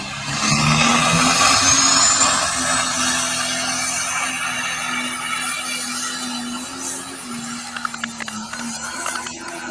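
A pulling tractor engine revving hard on the track, a loud, sustained mechanical drone that holds a steady pitch and gradually eases off, with clanks and crowd noise near the end.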